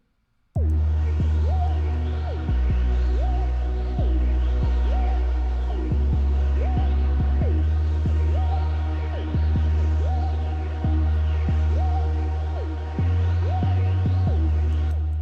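Tuned drum samples play back from FL Studio in a steady looping pattern: deep sliding 808 bass notes throb under crisp repeating hi-hats and percussion, loud and clean with no talking.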